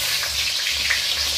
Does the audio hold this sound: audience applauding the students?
no